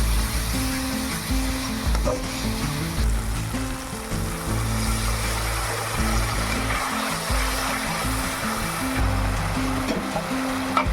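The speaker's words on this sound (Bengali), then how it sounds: "কাশ্মীরি লঙ্কার গুঁড়া, মিট মশলা দিয়ে আমি ভালোভাবে আবার কষিয়ে নেব যতক্ষণ না মশলা থেকে তেল ছাড়ছে" Kashmiri chili powder and meat masala fry in oil, giving a dense, continuous sizzle and hiss with low rumbling underneath that carries on without pause.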